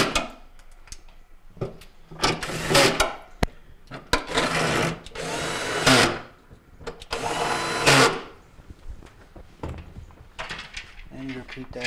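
A power drill drives the four screws back into the side rails of a Maytag refrigerator during a repair, with several short whirring bursts close by and quiet handling sounds between them.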